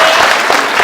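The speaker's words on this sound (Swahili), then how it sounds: "Jipigie makofi tafadhali" Loud, dense crowd applause at a large political rally, a brief continuous burst of many people clapping nearby.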